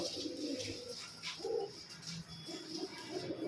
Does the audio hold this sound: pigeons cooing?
yes